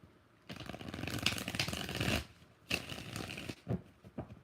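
Tarot cards are riffled and shuffled in three close, crisp bursts, the first long and the others shorter, with no talking.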